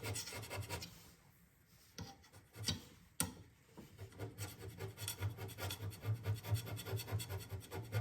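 Hand scraping the sliding way of a DIY CNC machine, a dense run of short rasping strokes in steady rhythm, close and fairly loud, pausing briefly in the middle before resuming faster.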